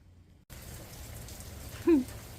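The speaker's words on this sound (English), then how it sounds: "Here's that rain" Rain falls steadily outdoors as an even wash of patter, starting after a brief silence, with a short tonal squeak or chirp rising briefly above it near the end.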